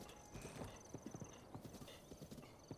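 Rhythmic hoof clip-clops of a horse galloping in Zelda: Breath of the Wild, a quick steady beat of close thuds with a brief snort or whinny at the end and no speech.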